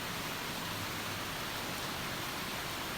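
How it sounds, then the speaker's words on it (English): Rain drumming on the overhead covering of an apartment building during a tropical storm, a dense, even hiss of steady rainfall with no breaks and no voices. "you can actually hear the rain hitting the overhead covering of our apartment building"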